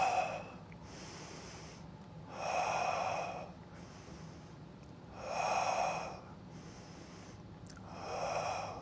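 Slow deep breaths during a half-kneeling hip flexor stretch with pelvic tilts, three long, loud, airy breaths rising and falling in a steady rhythm, close and alone.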